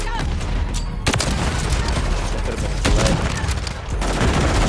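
Gunfire in Call of Duty MW3 on PS5: a dense run of close, loud shots with several sharp bursts standing out over constant battle noise.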